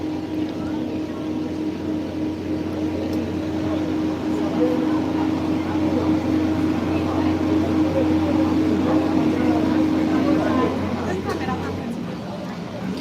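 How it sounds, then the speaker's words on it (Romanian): A boat passing close by on the water, its engine a steady low drone and hum that holds for most of the stretch and then fades near the end, with some voices faintly underneath. "măcar pentru barca asta care trece pe lângă noi"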